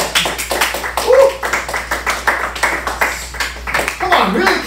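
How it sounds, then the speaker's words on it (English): A small comedy club audience claps in uneven bursts while a comedian keeps talking over the sparse, rhythmic hand claps. "Come on, really clap, guys."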